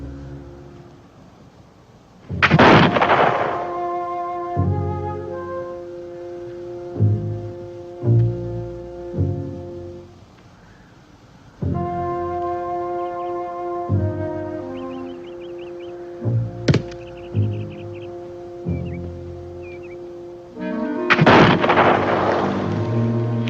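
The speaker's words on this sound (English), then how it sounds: "Another shot from the Enchanted gun." An old gun fires about three sharp, loud shots, spaced apart over sustained orchestral music.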